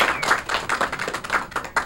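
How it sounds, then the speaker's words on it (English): Brisk, sparse clapping from a small audience at a comedy magic show, distinct individual claps in a quick uneven rhythm rather than a full ovation, close and moderately loud. "that'll be thunderous applause for Diana"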